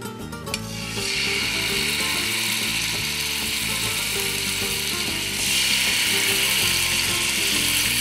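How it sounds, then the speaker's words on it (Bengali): Chicken and prawn kebab skewers lowered into hot oil set off a loud, continuous, crackling sizzle that starts within the first second and grows even fiercer about halfway through, close up with no talking. "আমাদের তেল গরম হয়ে গেছে, এখন আমরা কাবাবের স্টিকগুলো দিয়ে দিব।"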